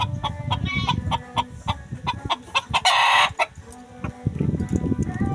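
Chickens cluck in quick bursts up close, with a rooster letting out a short loud crow partway through among other farmyard noises.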